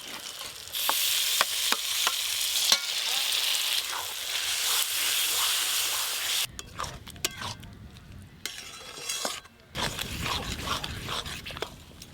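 Tomato paste sizzles in a pan with spiced chicken masala, a loud continuous frying hiss broken by a few clinks and scrapes of a spoon before the sizzle resumes.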